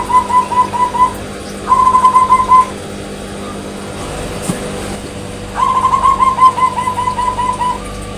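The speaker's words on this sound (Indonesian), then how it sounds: "Nah ini burungnya suaranya besar, dan saya kasih tahu contohnya seperti ini." A zebra dove (perkutut) coos loudly and close by, with steady, repeated cooing phrases in two bursts separated by a quieter pause.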